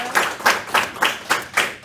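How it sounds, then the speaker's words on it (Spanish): Audience clapping at a Christian discipleship class, about seven distinct, evenly spaced claps in quick rhythm, close and fairly loud. "quisiera que se dieran un aplauso en primer lugar"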